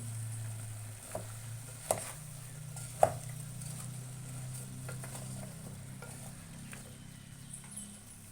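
Spices being stirred into a jackfruit seed, potato and tomato curry in a pan, with a soft sizzle under occasional spoon scrapes and a few sharper clinks against the pan.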